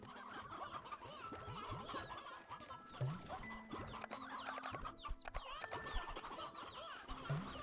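Chickens clucking in the Slime Rancher video game, a dense flock of overlapping clucks and short calls going on continuously, moderately loud, with game sounds underneath and no talking.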